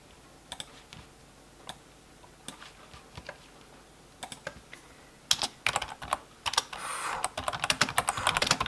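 Typing on a PC keyboard starts as sparse, separate clicks, then turns to faster, louder bursts of keystrokes close to the microphone, with no talking.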